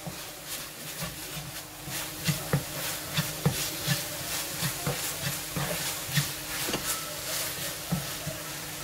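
Chili flakes are stirred into a cream sauce, made as part of a chicken fajita pizza, giving repeated soft scraping strokes in a steady rhythm over a faint background hiss, close by and with no talking.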